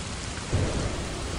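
Steady rain with a low rumble of thunder swelling briefly mid-way, a thunderstorm effect in a Malay radio drama, continuous and moderately loud with no voices.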